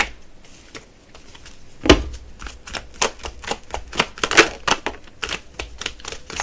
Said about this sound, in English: and then we are going to shuffle this way.